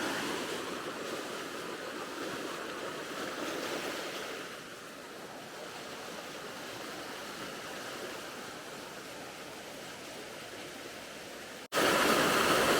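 Water from a fountain at Universal Studios Florida gushes and splashes in a steady, loud wash of spray near the listener, with a brief break at the end.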